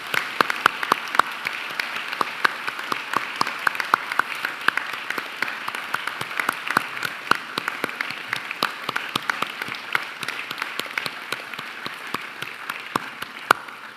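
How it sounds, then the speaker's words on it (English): Sustained applause from a large graduation crowd at the University of Newcastle, Australia, dense overlapping clapping that holds steady throughout with no speech on top. "join me in applauding the wonderful achievements of these graduates"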